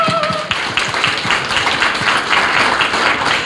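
Audience applause at the founding assembly of an education forum held at a UN peace memorial hall, a dense, steady clatter of many hands clapping close by that carries on for the whole stretch without any talk.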